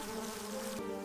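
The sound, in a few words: buzzing insects coming out of a wall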